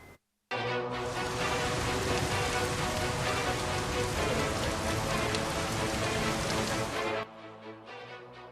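Heavy monsoon rain on the Karnataka coast pours down in a loud, steady, dense hiss for several seconds, with no voices, before cutting to a quieter pattering.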